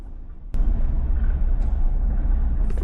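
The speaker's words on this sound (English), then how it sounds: "you do hear like the tires going on the car on the cobblestones when they're going a little bit quicker" Car tires roll over a cobblestone street in New York City at night, heard from inside a parked van as a continuous low road rumble, with a sharp knock early on and passing swells.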